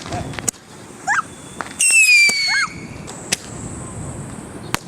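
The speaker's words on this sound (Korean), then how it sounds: "여러분 불꽃놀이는 이렇게 무섭습니다." Fireworks whistle and screech upward, then sharp cracking pops burst close by, with scattered bangs spread over a few seconds.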